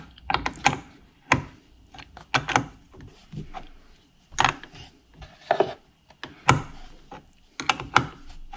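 A wrench ratchets a 10 mm battery terminal bolt tight on a Jeep Patriot, giving a series of close, sharp clicking bursts in uneven groups with short pauses between them.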